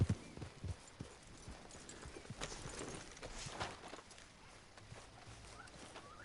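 Horse hooves clop along at an unhurried walking pace in the video game Red Dead, soft and somewhat distant, with a faint ambient background.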